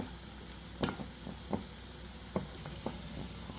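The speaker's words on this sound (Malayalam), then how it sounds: "ഒരു ഭാഗം ഒന്ന് ഫ്രൈ ആയിട്ട് വരട്ടെ" Mushrooms deep-fry in oil at an Indian street food stall, making a faint, steady sizzle with a handful of scattered sharp ticks and knocks as they are turned.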